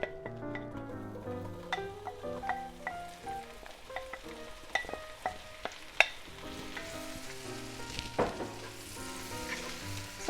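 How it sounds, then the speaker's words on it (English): Mushrooms fry in oil in a pan for a pancetta and mushroom risotto, giving a soft continuous sizzle with occasional stirring clinks against the pan, heard without talk. "Such a nice sizzle."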